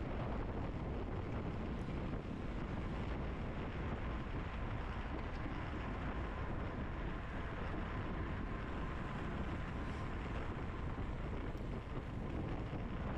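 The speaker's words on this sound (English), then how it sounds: "the wind comes off the right" Wind rushes across the microphone during a women's P123 bicycle race in California, a steady, dense, low roar of buffeting that continues without a break throughout.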